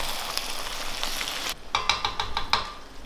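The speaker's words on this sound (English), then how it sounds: "So now, you can really just give it a nice mix through." Beef steak pieces sear in a hot pan for a rendang meal for ten people: a loud steady sizzle, then a few sharp clattering stirring strokes as the meat is tossed, close by.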